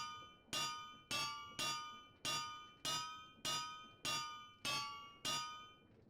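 Repeated ringing strikes of a runesmith hammer in a Minecraft modpack, nine evenly spaced metallic clangs, each with a bright bell-like ring that decays before the next blow, heard alone and close.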